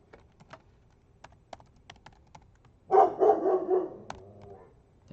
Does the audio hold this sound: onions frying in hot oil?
no